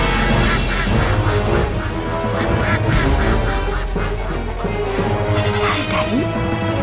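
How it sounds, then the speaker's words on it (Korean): Loud, continuous duck quacking with honking calls, part of a told children's story about a duck meeting a fox, ringing out over dense background sound for several seconds. "릴리는 자기도 모르게 꽥꽥 소리치고 말았습니다."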